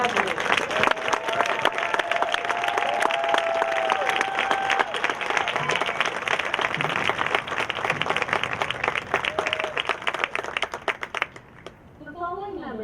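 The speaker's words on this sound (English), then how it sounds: "Please join me in once again applauding our 2020 graduates." A large graduation ceremony audience claps loudly and continuously in sustained applause for graduates, with some cheering mixed in, fading out near the end as a voice begins.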